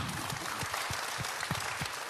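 Audience applause at a film screening event, a brief stretch of steady clapping from a crowd, moderately loud with individual claps standing out.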